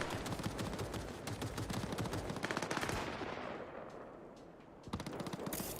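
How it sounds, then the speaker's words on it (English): Automatic turret gunfire from the Cyberpunk 2077 video game, dense rapid bursts that fade briefly near the end and then resume with sharp, loud shots, no talk over it. "One of the turrets is kicking off now."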